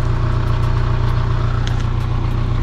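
A Kia Carnival diesel engine idles at the exhaust, producing a loud, steady low rumble with constant drone and no pauses, recorded close to the tailpipe.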